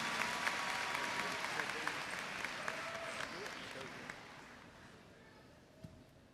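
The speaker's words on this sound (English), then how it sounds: "Please join me in giving our scholarship winners a big round of applause." A graduation audience applauds scholarship winners at a high school commencement, a broad, fairly distant wash of clapping that slowly thins and fades, with a few louder claps and faint voices heard within it.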